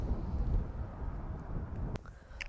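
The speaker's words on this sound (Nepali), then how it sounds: "हावा चाहिँ बबाल चल्ला छ" Strong wind at a park beside an airport buffets the microphone in a steady low roar, loud and close, with a brief click near the end and no speech.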